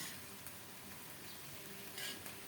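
Cauliflower being sautéed and stirred in a covered pan for a vegetarian curry, a faint soft sizzle with a few light spoon scrapes, quiet and brief.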